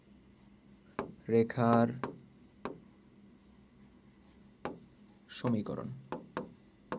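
A pen scratches across paper while a straight-line equation is written for a higher maths lesson, with two longer bursts of close scribbling and scattered short strokes as a voice speaks.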